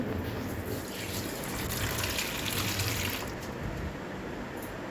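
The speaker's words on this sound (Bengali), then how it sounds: "প্রথমে আবার কলের জল আমি ভালো করে ধুয়ে নেব" Figs are rinsed under a running kitchen tap, a steady close gush of water with slight shifts as the fruit is turned in the stream, no talk.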